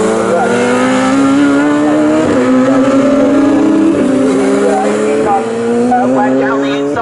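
Racing motorcycles in a Bikesports Championship race at Snetterton on a damp, cool track, with engines screaming loudly and steadily as they climb through the gears, a rising whine held throughout, and a commentator talking over it.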